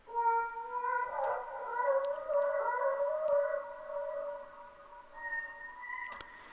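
A quiet sung vocal line bathed in an analog tape echo effect glides and wavers in long sustained notes, its repeats smearing into an ambient, siren-like haze.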